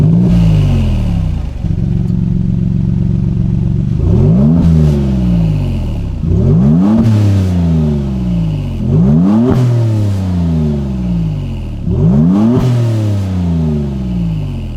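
A Maserati MC20's V6 engine revs hard through repeated rising pulls, each climb cut by a gear change, loud and close for the whole stretch after a brief steady drone at the start.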